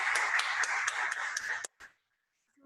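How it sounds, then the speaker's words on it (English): An audience claps in a quick round of applause for student-built apps at an evening presentation event, moderately loud with a few sharp individual claps, ending abruptly after about a second and a half, followed by silence. "let's give all of the students one more big round of applause for the apps that they made tonight"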